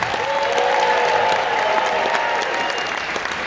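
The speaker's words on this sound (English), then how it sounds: "Please give them a round of applause." Audience applause for a Dopesick panel, a dense, steady wash of many hands clapping at once, loud and sustained throughout without a break.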